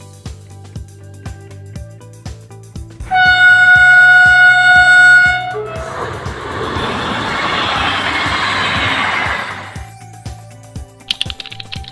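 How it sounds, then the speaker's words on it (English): A cargo train horn sounds one loud, sustained harmonic blast of about two seconds, followed by the broad rumbling roar of the freight train passing, with background music beats throughout. "Cargo train."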